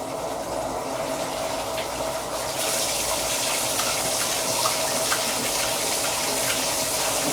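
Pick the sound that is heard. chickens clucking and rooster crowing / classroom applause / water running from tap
water running from tap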